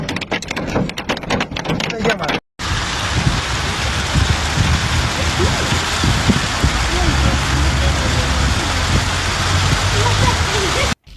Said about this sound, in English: In a space of 2 hours, up to 70 millimeters of rain fell in the area.